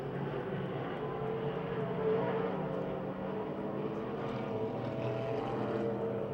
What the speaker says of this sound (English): Kennedy, now Charlier slides to second